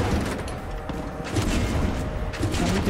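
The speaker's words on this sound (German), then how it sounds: "Noch ein Schuss dorthin." A dense rapid string of gunshots in the video game Far Cry 6, with repeated booming thuds and crackling bursts over a few seconds.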